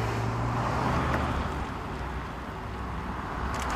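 Porsche 911 GT3 RS driving past at a Paris rally event in Ouzouer-sur-Trézée, a loud engine roar that stays close and steady under traffic noise before easing slightly.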